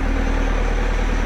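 Bobcat Toolcat 5600 utility work machine engine running at a steady idle, a close, continuous low rumble with even pulsing throughout.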